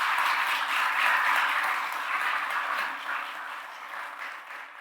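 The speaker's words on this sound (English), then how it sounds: "Let's give our manager a big round of applause." Audience applause for the county manager at the Guilford County State of the County address, a steady wash of many hands clapping that holds at full strength before easing off slightly toward the end.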